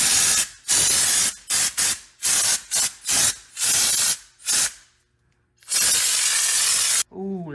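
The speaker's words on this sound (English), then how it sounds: "I'm going to spray those with high heat paint" Aerosol can spraying high-heat paint onto brake calipers in a series of short hissing bursts, then a pause and one longer continuous spray, close and loud.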